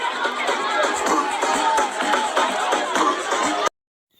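Crowd at an overseas concert by a dancehall artist, a dense roar of many voices and whoops that holds steady for several seconds and then cuts off abruptly.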